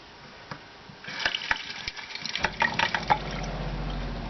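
Water from a sink faucet in an RV's newly fitted plumbing sputters in with a few spits and drips, then builds into a steadier, splashing flow into the basin.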